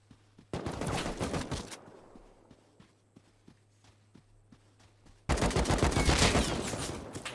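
Gunfire in the survival shooter Rust, with a loud burst of rapid shots at the start, a quieter stretch of scattered single shots over a steady hum, then another dense, loud volley near the end.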